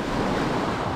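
Sea surf washing onto the central beach at Lazarevskoye, Sochi, mixed with steady wind buffeting the microphone, a continuous loud roar with no breaks across one second.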